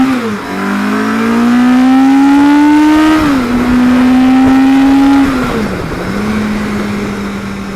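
A loud, close engine revs hard through rising pitch sweeps, drops as it shifts gears, and climbs again, with a throaty, aggressive roar.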